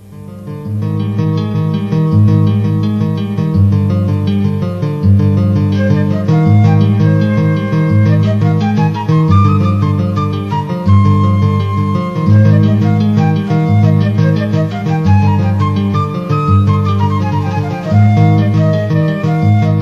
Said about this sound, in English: a simple keyboard split, with acoustic guitar on the left and flute on the right